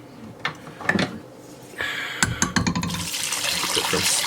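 Beef broth poured into a pot, starting with a few splashes and clunks, then a steady stream of pouring that runs continuously to the end.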